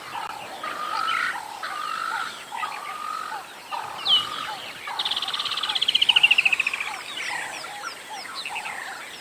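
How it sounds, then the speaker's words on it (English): Woodland kingfishers and other birds call across a dusk safari landscape, repeated trilling and chattering phrases overlapping in a steady chorus, with one loud descending trill swelling up close midway. "You can hear a lot of birds at the moment, especially woodland kingfishers."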